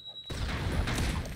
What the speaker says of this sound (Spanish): no les ha afectado la explosión